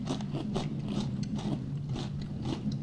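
Close, repeated crunching of a crispy snack, likely Wheat Thins or UTZ Crab Chips, a dense crackling chew that runs steadily and loudly through the whole short stretch, with no talking.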